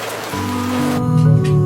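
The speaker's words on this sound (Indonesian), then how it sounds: "Nunggu hujan reda, habis itu kita pulang." Rain falling steadily on a surface, a dense constant hiss that grows slightly louder through the short stretch, with no voices.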